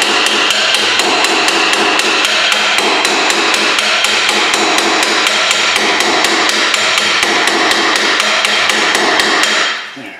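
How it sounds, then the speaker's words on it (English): A hammer taps the wheel hub lip of a Honda CR-V during a rear wheel bearing repair, making a rapid, evenly spaced string of close, loud metallic taps that stops abruptly at the end. "I just want to try to lightly, gingerly tap it while I hold the shaft."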